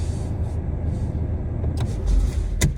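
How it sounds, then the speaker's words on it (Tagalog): A car sits in slow, congested road traffic on a cold day, its low engine rumble steady and close throughout, with a couple of brief brighter mechanical clicks or window-motor whirs near the end. "At ako naman ay nasa traffic."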